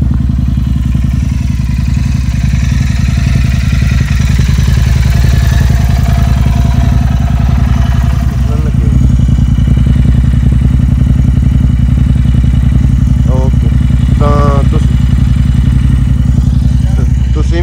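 A Royal Enfield motorcycle idles close by with a loud, steady low thumping throb for the whole stretch, joined by brief voices and clatter partway through.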